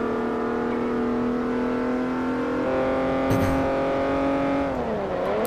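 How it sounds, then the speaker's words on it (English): A Pontiac Fiero engine in Forza Motorsport 4, cruising around the corkscrew, holds a steady, loud, buzzing drone, its pitch dipping and then rising again near the end. "I like this Fiero. It's such a silly car."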